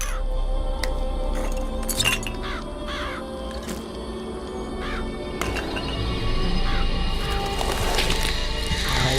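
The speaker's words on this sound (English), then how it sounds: "Press to summon murderous crows" Murderous crows summoned by a vigor in BioShock Infinite caw repeatedly in harsh, overlapping cries over a rumbling game soundscape, with sharp clinks and smashes scattered between.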